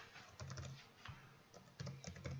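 Quick, light keystrokes on a computer keyboard while entering a chart title in Excel, a soft irregular patter of several taps at close range, heard alone without speech.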